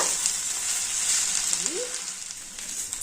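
Diced potatoes for aloo kurma sizzle and are stirred in a pan, a steady frying hiss with a brief scraping stir, close and moderate in volume, with no talking.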